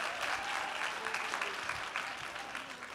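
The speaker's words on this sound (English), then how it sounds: "So give them a round of applause." Audience applause for a guest speaker's event, a dense wash of clapping from a crowd heard at moderate distance, steady and unbroken for three seconds.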